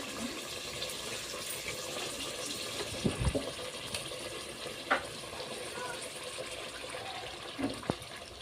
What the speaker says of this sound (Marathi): तर त्याच्यामध्ये आपण गरम पाणी टाकायचं आहे